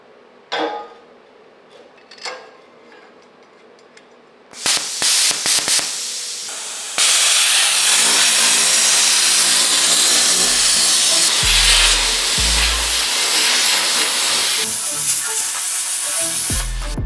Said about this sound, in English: let's do some plasma cutting